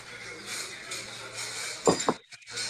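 Café ambience played back from a recording: a steady murmur of background chatter with a couple of sharp dish and glass clinks near the end, followed by a brief dip toward quiet.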